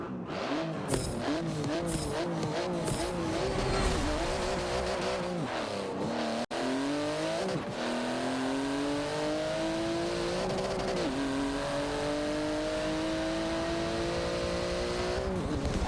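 A car in a video game drives and revs steadily, its engine climbing and dropping through the gears, loud and continuous with a brief cut partway through.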